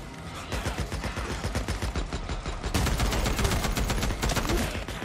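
RPM automatic weapon in Days Gone firing sustained rapid bursts, dense machine-gun rattle that grows louder and more continuous partway through.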